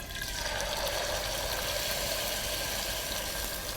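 Fish fillets sear in a hot pan, giving a steady, loud broadband sizzle that runs without a break for the whole stretch and has no talk over it.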